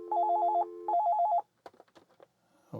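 Telephone on a Panasonic KX-TA824 analog PBX ringing with two loud warbling electronic rings in quick succession, followed by faint clicks and handling noises.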